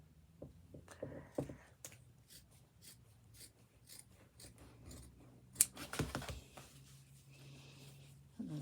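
Card being cut by hand for a padded card, with a series of faint, dry snips and rustles, then a louder cluster of cuts and paper handling, all close and quiet.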